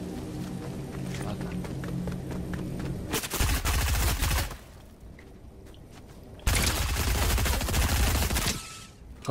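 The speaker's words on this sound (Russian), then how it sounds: "Как-то он интересно стреляет, этот ствол" Gunfire from a gun in the video game Fortnite comes as two loud bursts of rapid automatic shots separated by a quieter pause, with faint clicks and game noise before the first volley.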